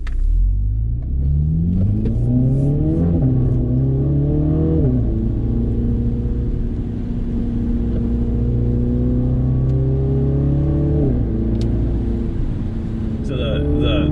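A 2020 MINI JCW Clubman on the Tail of the Dragon road, engine heard from inside as it revs up through gears with rising and falling pitch, a steady loud drone and a gear change, while a voice talks over it.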